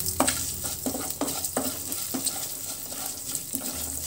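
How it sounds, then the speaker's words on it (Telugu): Fenugreek seeds frying in a pan while being stirred, a steady close sizzle broken by regular scraping strokes of the spoon, loud and without talk. "మంచి గోల్డెన్ కలర్ వచ్చే వరకు ఫ్రై చేసుకొని"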